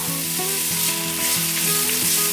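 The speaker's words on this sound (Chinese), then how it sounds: "油热了之后，放入芹菜末" Minced celery drops into hot oil in a wok and fries with a loud, close, continuous sizzle, bright and crackly, over a faint background tone.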